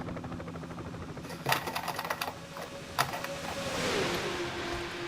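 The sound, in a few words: restrictor plate stock car engine at Daytona, from a video game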